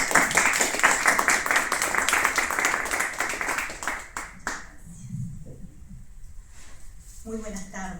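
Audience applause at an international poetry congress fills the first few seconds with dense, steady clapping, then fades as a single voice begins speaking in a quieter room.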